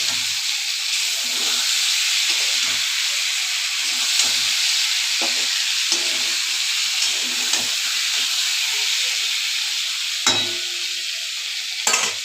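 A spiced mixture frying in oil in a pan is stirred, the oil having separated, giving a steady close sizzle with scattered scraping clicks from the spoon and no talking.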